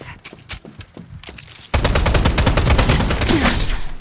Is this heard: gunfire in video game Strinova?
yes